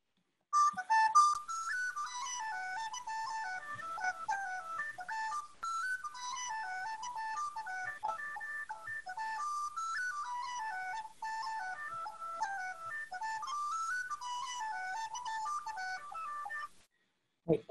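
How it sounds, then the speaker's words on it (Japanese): A tin whistle plays a lively Irish jig alone, bright ornamented notes running in quick, unevenly lilting phrases without pause for about sixteen seconds. "ホイッスルの演奏ですが"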